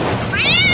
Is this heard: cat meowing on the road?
yes